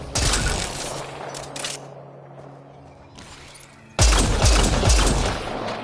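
Bursts of rapid gunfire from a sci-fi shooter game, Mass Effect Andromeda, loud and dense with a steady hum in a lull, then a fierce renewed volley of shots.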